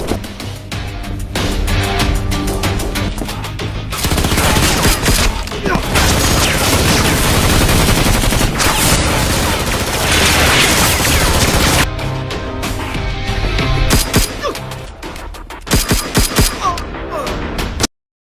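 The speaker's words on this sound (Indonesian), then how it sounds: "Ketika Miranda mendengar suara tembakan" Intense gunfire from a gangster shootout film scene, sustained fusillade and machine-gun bursts with crashes and booms, loud and continuous before tapering into scattered shots.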